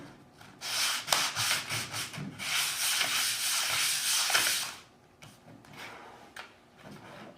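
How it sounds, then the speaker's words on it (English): A model engine's rear frame face (Morris Models) is lightly sanded in a quick run of rhythmic rubbing strokes, close and fairly loud for about four seconds before the sanding stops. "I'm going to lightly sand the face of our rear frame."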